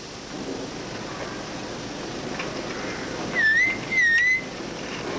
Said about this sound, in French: il y a un merle qui siffle